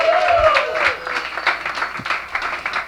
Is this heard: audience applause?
yes